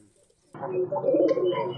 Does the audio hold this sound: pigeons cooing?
yes